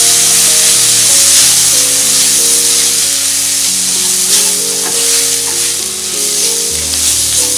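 Coriander powder, red chilli powder and garam masala stirred and frying in a pan for panchmel dal, a loud steady sizzle with stirring scrapes under sustained background music, no speech.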